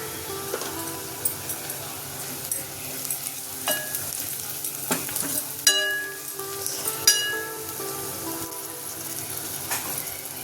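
Turmeric and red chili powder fry with browned onion in a pan, a continuous close sizzle marked by repeated spoon scrapes and occasional clinks against the metal.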